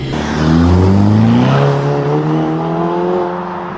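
A Ferrari Roma supercar pulls away hard, its engine note climbing through rising revs with a loud, close, throaty roar that swells and then eases slightly.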